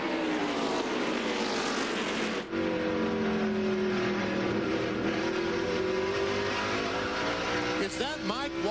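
NASCAR Winston Cup stock cars race at Martinsville Speedway, loud engines roaring and droning with shifting pitch as cars pass close by, with commentary voices talking over the noise.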